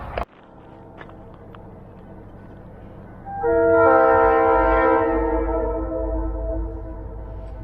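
A train near a campground sounds a loud, sustained horn blast that swells midway and holds, over the steady rumble of rail cars passing close by.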